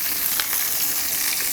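Chicken skins fry in a pan outdoors as treats for dogs, giving a steady, dense sizzle with faint crackles and pops throughout, close and moderately loud with no talking.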